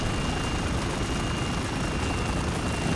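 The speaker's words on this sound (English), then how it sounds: "Helicopter battle right at the beginning." A helicopter battle in the video game Spec Ops: The Line, heard as a dense, loud, continuous rotor roar and rumble with no distinct beats, no speech over it.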